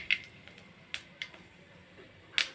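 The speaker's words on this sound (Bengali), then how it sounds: "অল্প একটু পাঁচফোড়ন দিয়ে দিলাম তেলে, আর একটু সর্ষে দিয়ে দিলাম" Panch phoron and mustard seeds go into hot oil, and a few sharp pops and sputters break out at scattered moments over a faint, low sizzle.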